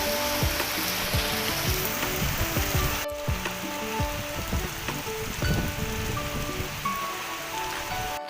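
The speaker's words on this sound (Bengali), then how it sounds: "মানে এখনো বৃষ্টি পড়ছেই," Heavy rain falls during a storm around temples in Sekendarpur village, a steady, dense patter of drops on nearby surfaces that continues throughout with no pauses.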